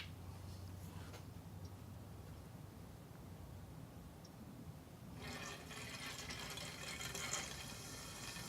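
Water runs through a PVC pipe test rig, a faint steady rushing and splashing that swells louder and brighter partway through as the flow increases.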